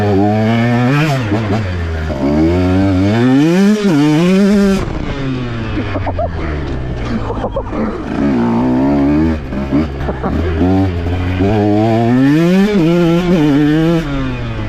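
A 2023 KTM Husqvarna 125 two-stroke motorcycle with a remapped ECU accelerating hard: a loud, close engine wailing up through the revs in repeated rising sweeps, cutting off between gear shifts.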